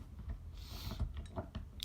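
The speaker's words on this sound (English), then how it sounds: "you hear him chewing his bone literally right on the floor" Soft, irregular gnawing and crunching of a dog chewing a bone nearby, with small clicks and scrapes over quiet room noise.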